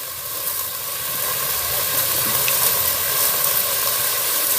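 Sliced onions and four green chillies frying in a pan, giving a steady, loud, close hiss of sizzling oil that holds evenly throughout with no voices.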